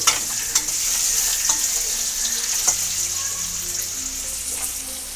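A soybean mixture fries lightly in a pan with a constant bright sizzle, a few clicks of stirring and faint running water nearby, close and without talk.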